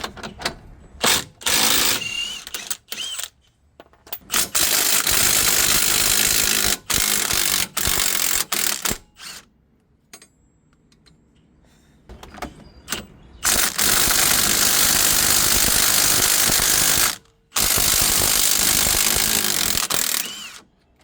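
Removing the front axle spindle nut on a 2006 Infiniti FX35 AWD: a loud pneumatic impact wrench rattles in long, harsh bursts broken by short pauses, close and alone without talk.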